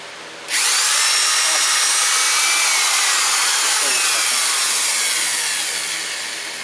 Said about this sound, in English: Now Carmine's going to ream the hole out a couple of times so that the hexagon pin goes in there without any headaches